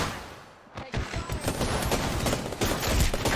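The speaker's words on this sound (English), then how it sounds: "I'm being shot at." Rapid gunfire bursts in an Apex Legends match, loud and near, repeated shots in quick volleys over a continuous battle din.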